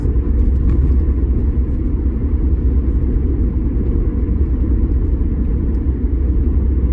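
Inside a car on an early morning drive, a steady low engine and road rumble fills the cabin, continuous and even, with no voices.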